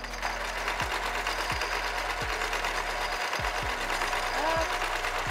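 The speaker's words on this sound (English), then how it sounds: "You're going to come up the sewing machine and sew up, and then come back down." Sewing machine stitching a child-sized cloth face mask, its motor running steadily with a regular series of pauses and restarts as the seam is sewn, close and clear throughout while a voice talks over it.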